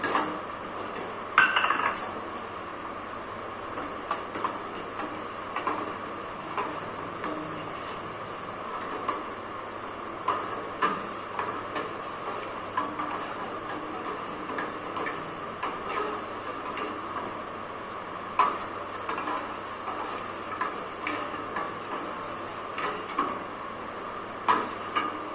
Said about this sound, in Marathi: आता मी त्याला हे साखर घालणार आहे आणि तसंच ढवळत राहणार.